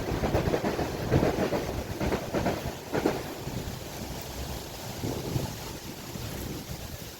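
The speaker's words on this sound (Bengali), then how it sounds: "পাশ দিয়ে ট্রেন যাচ্ছে" Outdoors, a train passes nearby as a low rolling rumble with irregular surges. Gusty wind buffets the microphone, and no one talks.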